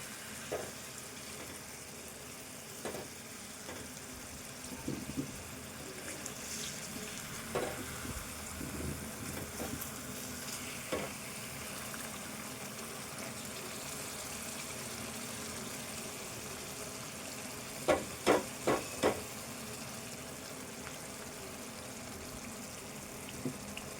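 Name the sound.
stirring and frying egg curry with green chilli masala in a pan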